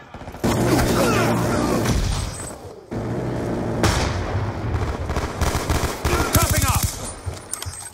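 Loud, sustained automatic gunfire in Call of Duty Black Ops 2 multiplayer on Xbox 360, with rapid bursts and booming impacts nearly filling the clip after a brief pause, under faint voice chatter.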